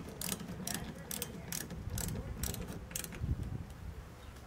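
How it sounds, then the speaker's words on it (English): Hex bolts are tightened on a stainless steel side table for a Weber Q grill, giving a close, rapid ratcheting click repeated in short regular bursts over faint background noise. "You slide those in, then you tighten the hex bolts"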